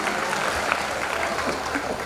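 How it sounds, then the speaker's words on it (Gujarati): Audience applause at a cultural programme for the 250th Raghuramji birth anniversary festival, a steady dense roll of clapping from a crowd, with a few louder individual claps standing out. "જોરદાર તાળીઓ બજાવીએ છીએ"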